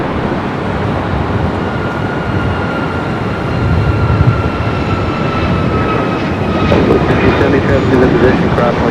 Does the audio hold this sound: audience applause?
no